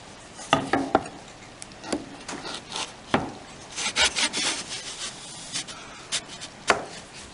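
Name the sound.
sawing tenons with a tenoning jig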